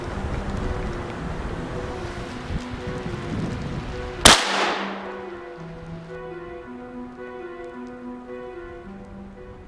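A single sharp hunting gunshot cracks out midway, its echo fading over steady outdoor wind rumble and a low engine-like hum.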